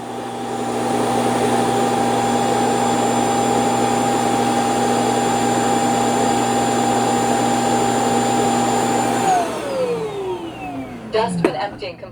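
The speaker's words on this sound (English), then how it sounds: "Emptying the dustbin. Sounds like a strong auto empty." An iRobot Roomba 515 combo dock auto-empties its dustbin with a loud, steady, close suction roar lasting about nine seconds, then winds down with a falling pitch followed by a few rattling clicks.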